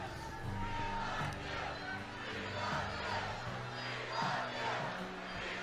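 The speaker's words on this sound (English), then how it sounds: "Crowd chanting, "We love you."" A large political rally crowd chants in unison, a loud rhythmic mass of voices repeating a short phrase over and over, filling the space with steady, roaring vocal energy.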